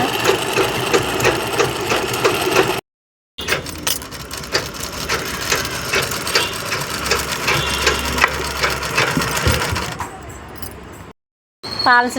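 A sewing machine runs a zigzag stitch along a saree. The motor drones and rattles steadily and close up, with two brief pauses in the stitching.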